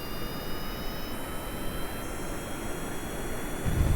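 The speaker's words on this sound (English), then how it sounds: "We're going to turn on the engine, give us a little bit of boost." A spacecraft engine roars at maximum throttle in the Stone to Space video game, a steady broadband jet-like rush. It holds constant and close, swelling louder at the very end, with no voices.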